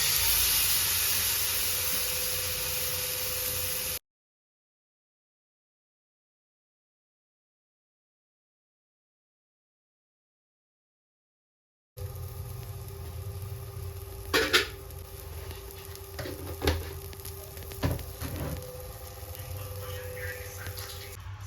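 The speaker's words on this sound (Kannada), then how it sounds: "ಸೊ ಇವಾಗ ಫ್ರೈ ಮಾಡ್ಕೊಳ್ಳೋದು." Marinated fish frying on a pan gives a loud, steady hiss that cuts to silence for several seconds, then returns as a lower sizzle with scattered crackles and pops.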